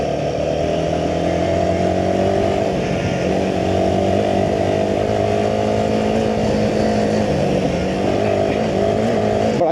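A Royal Enfield Himalayan 450 single-cylinder motorcycle rides through city streets, its engine running steadily with a constant throbbing drone and slight rises and falls in pitch, close and loud with no talking.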